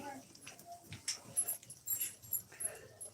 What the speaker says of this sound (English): Oh, the puppy dogs like to be right in the way.